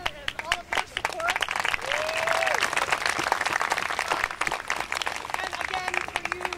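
A theatre audience at a 2007 GreenStage performance of Two Gentlemen of Verona applauds and cheers: sustained, dense clapping that swells in the middle, with a voice speaking over it.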